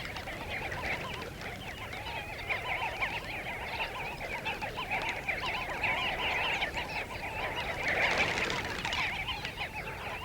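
A large flock of adult wild birds flying in to drink at a water source, dense overlapping honking and calling calls from many birds at once, steady and busy with a louder swell near the end, no talking.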